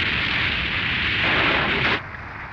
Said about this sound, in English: The explosion seems to have worked